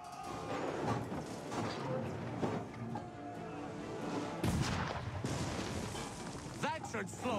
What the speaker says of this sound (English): Can we use the cannon?